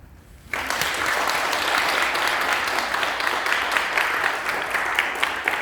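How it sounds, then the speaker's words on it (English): Sustained audience applause at the close of a Rotary Youth Speaks school debate, rising abruptly after a brief quiet start and continuing as a dense, even wash of clapping. "let's give one final round of applause for both of us"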